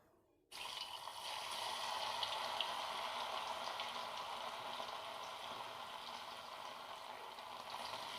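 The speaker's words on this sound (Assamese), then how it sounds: "গোটেইখিনি পনীৰ মই এইদৰে দি প্ৰায় আধা মিনিট মান সময় ফ্ৰাই কৰিম" After a brief quiet moment, a loud, steady sizzle of paneer frying in hot oil in a kadai over medium flame starts and continues evenly without talk.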